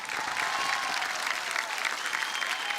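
An audience applauds loudly and steadily, a dense wash of clapping that carries through the whole stretch without pause.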